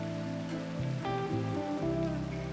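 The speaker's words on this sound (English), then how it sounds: "I don't think we could stop it from raining." Steady rain falling in Minecraft hisses continuously at an even level, heard together with a sustained in-game musical drone and no voices.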